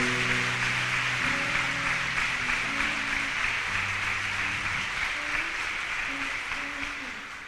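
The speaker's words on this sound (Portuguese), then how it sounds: "Pode aplaudir mesmo." A church congregation claps in sustained, dense applause that holds steady, then slowly fades toward the end. Voices murmur faintly underneath.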